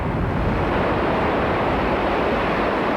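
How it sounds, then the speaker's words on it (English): Ocean surf rolls onto a South Carolina beach after Hurricane Hugo, a steady broad roar of waves mixed with wind rumble, loud and continuous with no voices. "you can just hear the ocean waves rolling in"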